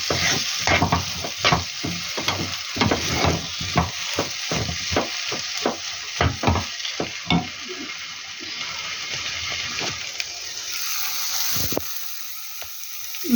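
Curry with curry leaves frying in a pan while being stirred: a run of loud, rhythmic scraping stir strokes over a constant sizzle, the strokes thinning out toward the end, with no one speaking.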